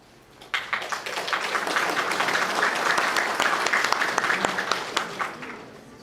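A room full of people at a civic meeting in Fairborn, Ohio bursts into sustained applause, dense clapping building to a steady roar and then thinning out toward the end.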